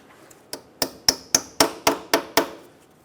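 A small hammer taps a brake hose retaining clip on a 2007-2012 Nissan Altima, giving eight sharp metallic knocks in a steady, slightly quickening rhythm, close and clear.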